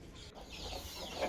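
Chickens on a farm cluck softly as they peck at feed on the ground, a continuous low bustle of close fowl sounds with a brief louder call near the end.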